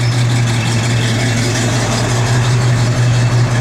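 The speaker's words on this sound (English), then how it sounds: "Good sounding truck." A 1969 Chevrolet C10 pickup engine idles steadily and loudly up close, a constant low rumble with no break and no voices.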